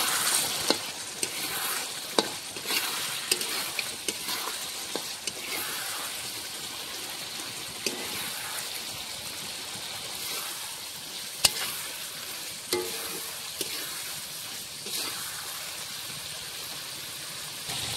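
Mutton with cauliflower sautés in a pan, giving a continuous loud sizzle and fry hiss with frequent clicks and scrapes of stirring throughout, with no talk.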